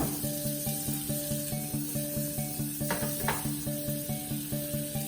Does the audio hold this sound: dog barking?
no